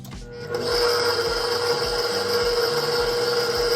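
An electric stand mixer runs on low, kneading white bread dough in a home kitchen: a steady mechanical whir with a constant whine that starts abruptly and holds evenly throughout, close by with no talking.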